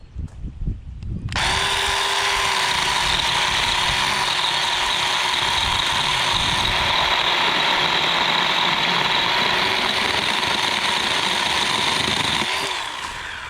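A Ryobi 18V One+ cordless power tool whirs up to a steady high-pitched run, cutting off a 4-inch piece for about eleven seconds before spinning down; loud and close, with a few clicks of handling before it starts.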